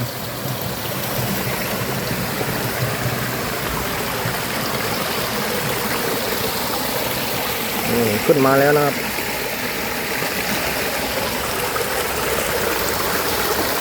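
Steady rushing water flows throughout, a small stream spilling over rocks, with someone talking briefly partway through.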